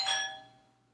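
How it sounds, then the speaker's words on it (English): A single doorbell chime rings once indoors, a bright tonal ding that fades away within a second, faint and alone. "That's my doorbell, and I feel like that's a sign."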